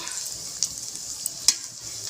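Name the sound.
stirring frying boiled-potato snacks in a pan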